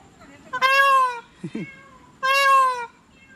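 A peacock gives two loud, nasal wailing calls close to the listener, separated by a short burst of a lower voice or grunt.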